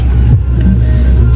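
Car engine rumbling steadily up close as the vehicle pulls away from a stop on a jungle road in the Andaman Islands, a low droning hum with a brief surge.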